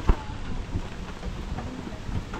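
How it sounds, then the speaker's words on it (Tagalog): Heavy rain pours steadily in a close, noisy wash, with one sharp thump at the start and a few softer knocks later. "Lakas ng ulan."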